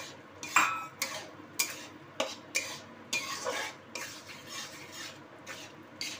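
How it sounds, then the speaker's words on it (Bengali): Boiled soybeans added to a pan of potato and pointed gourd curry and stirred, a utensil scraping and clinking against the pan in a steady rhythm of regular strokes over a faint sizzle, close and alone. "চলো এবার সয়াবিনগুলো দিয়ে দিই।"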